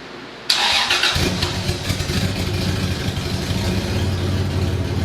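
A car engine cranks and catches, then settles into a steady, fairly quiet idle with a raspy edge from exhaust leaks, heard close up with no talking over it.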